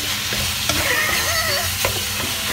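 Aromatics sauté in a pan for pancit bihon guisado, a close, continuous sizzle with bright crackles, a couple of sharp utensil taps against the pan, and a faint whistling tone drifting in the background.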